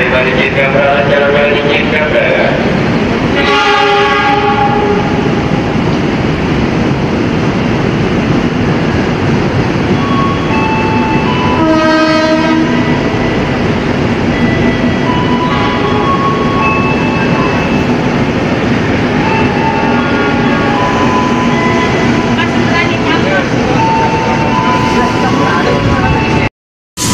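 A locomotive-hauled train rolls steadily past, its horn sounding in two clear bursts near the start and middle over a continuous loud rumble of wheels and cars.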